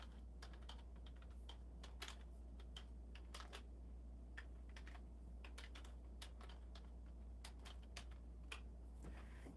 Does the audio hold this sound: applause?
no